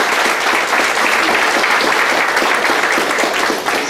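Dense, loud audience applause at a felicitation program, steady and sustained throughout without breaks.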